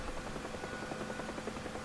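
Huey helicopter in the DCS flight simulator, rotor blades thumping in a steady rapid rhythm under a constant turbine drone, moderately loud and continuous.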